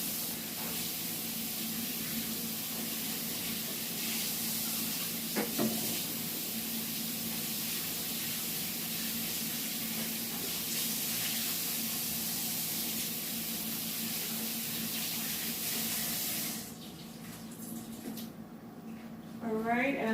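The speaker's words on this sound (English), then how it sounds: "let me just wash my hands real quick" Tap water runs steadily while hands are washed at a home kitchen sink during ground beef dinner prep, a continuous close hiss and spray that lasts most of the stretch before cutting off near the end.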